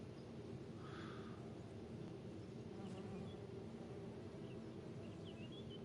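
A video game ambience where honeybees buzz as a faint, steady insect drone beneath a continuous low background hum, with no voices.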